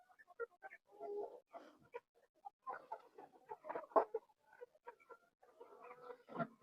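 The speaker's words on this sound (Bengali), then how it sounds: "এইখানে অনেকগুলো মুরগি আছে মাশাআল্লাহ" Native desi chickens on a farm cluck and cackle in scattered, irregular bursts, several birds fairly close but soft, with quiet gaps between calls.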